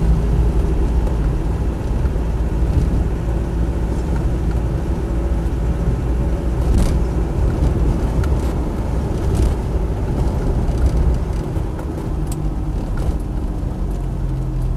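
Loud, steady diesel drone with heavy low rumble from inside a moving Land Rover Defender 90 300Tdi County Hardtop, continuous and unchanging, with faint rattles over the road noise on a cold day.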